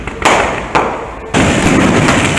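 Fireworks bursting outdoors at night over the water during kayak fishing for snook, three loud booming reports with crackling tails that build into a dense, sustained barrage.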